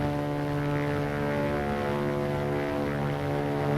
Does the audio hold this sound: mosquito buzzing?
no